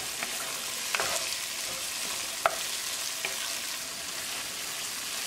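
Tomatoes and potatoes for a potato curry cook in a pan with a steady frying sizzle, while a spoon stirs them in a few soft scraping strokes, one a little sharper, close and fairly quiet throughout.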